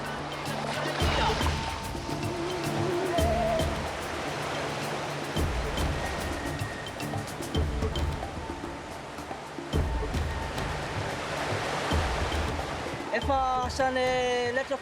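River rapids rush loudly and continuously in Madagascar as tubes are ridden through them, a dense roar of churning water dominating, with voices heard over it near the end.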